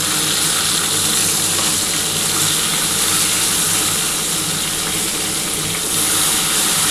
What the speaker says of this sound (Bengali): আমি সমস্ত মাছগুলোই আজকে একসাথেই ভাজছি।